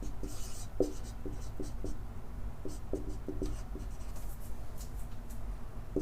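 Chalk or marker writing on a board: soft scratchy strokes and short taps in an irregular rhythm, quiet and close, with no talking.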